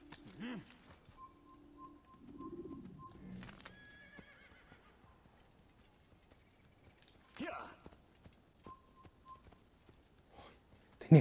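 Assassin's Creed horse whinnies in short bursts, with scattered hoof clops and faint bird whistles between them, all fairly quiet and spaced out with no talk.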